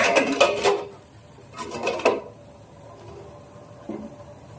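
Steel plate set down into a steel idli maker for steaming dhokla, giving two bright metallic clattering clinks close by, then a faint small tap, with no talk.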